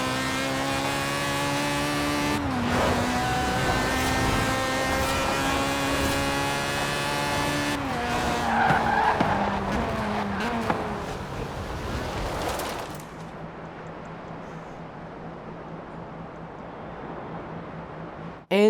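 1997 Mazda RX-7 rotary engine in the racing game Forza Horizon 4, revving loudly through rising and falling gear pulls with harsh buzzy tone, then dropping to a low steady idle near the end.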